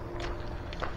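Footsteps on a lakeside bank while fishing for stocked rainbow trout: a few soft, uneven steps at close range over a steady outdoor background, with no talking.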